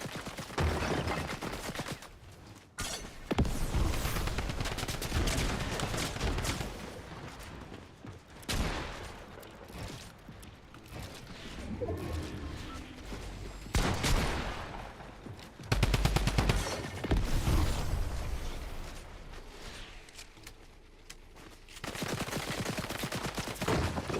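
Heavy video game gunfire, with rapid bursts and repeated loud shots in bunches, pausing briefly and resuming across a long firefight.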